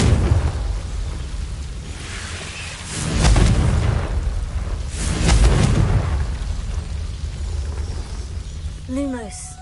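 Two booming blasts from the Confringo fire spell in Hogwarts Legacy swell and fade a couple of seconds apart over steady game ambience, followed by a brief chiming effect at the end.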